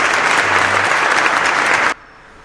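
Hand claps from a small group break into brisk, steady applause that fills the room, then stops abruptly, leaving quiet room tone.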